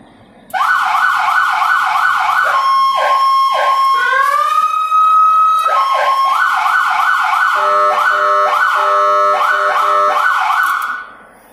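Siren on a 2020 Suburban SWAT vehicle, loud and close, cycling through rapid yelp warbles, a slow rising wail and quick piercing pulses before cutting off.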